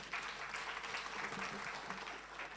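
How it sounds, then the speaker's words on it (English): Audience at an SME conference and expo applauding Dennis: continuous, fairly soft clapping from a crowd, an even patter that holds steady throughout. "So a round of applause for Dennis."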